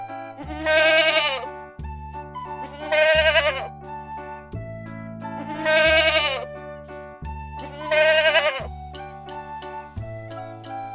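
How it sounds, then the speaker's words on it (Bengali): A young goat kid bleats four times in long, wavering, evenly spaced cries, each separated by a short pause, with a musical backing underneath. "ছয়ে ছাগল ছানা লাফিয়ে চলে"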